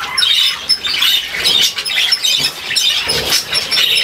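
Pet budgie squawking and chattering up close, a rapid stream of shrill chirps and scratchy squawks in uneven bursts with brief pauses.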